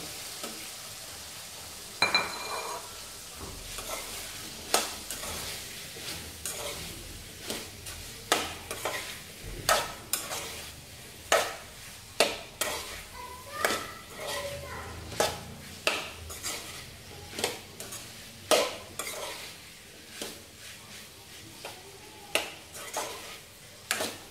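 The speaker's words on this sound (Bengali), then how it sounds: "এখন আমরা আলু, ছোট ছোট যে আলু সিদ্ধ করা, সেগুলো আমরা দিয়ে দেব" Small boiled baby potatoes tossed into spiced oil in a pan sizzle and fry steadily while a spatula stirs with repeated scraping clanks against the metal, close and rhythmic throughout.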